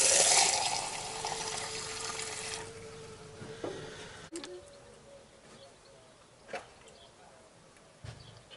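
Coolant gurgles and trickles into the cooling system of a Ford Ranger B2500, loud at first then fading into quieter, sporadic bubbling with occasional clicks.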